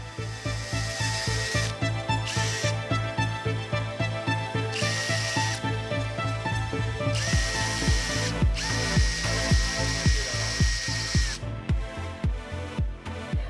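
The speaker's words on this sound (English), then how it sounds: "Drill the required holes accordingly." Power drill boring holes in mud flaps for a 2015–2019 Dodge Charger, close and loud, with repeated rhythmic ratcheting bursts and the motor pitch rising and falling between holes, no talking.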